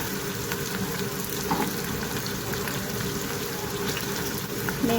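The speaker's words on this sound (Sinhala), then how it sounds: "ඒකට මේ කපාගත්ත ලුණු ටික එකතු කරනවා බැද ගන්න." Chopped onions sizzle steadily in hot oil, a constant crackling fry with faint clinks, unbroken for the whole stretch.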